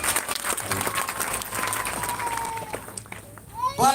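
A church congregation applauds during a live service, a broad wash of clapping that carries the whole stretch, with a held tone and some voices mixed in beneath it.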